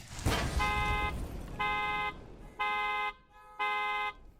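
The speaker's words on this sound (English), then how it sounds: "We even went back and recorded the car alarm in the exact location so we could get it to sound right." A recorded car alarm sounds in steady repeating pulses, four even tonal blasts about half a second long with short gaps, loud over a noisy, rumbling background.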